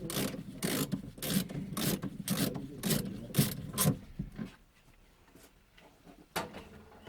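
Ratchet working a seat bolt loose in a Volvo with a rotten floor pan, a rapid string of loud clicking strokes close up, then slower scattered clicks and a clunk.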